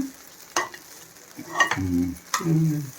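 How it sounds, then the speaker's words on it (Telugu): Leftover rice in a hot tempering sizzles softly as a spoon scrapes and stirs it in the pan, with a few distinct scraping strokes over the steady frying hiss. "అన్నం చక్కగా మంచిగా వేసేసాను. తాలించేసేసాను."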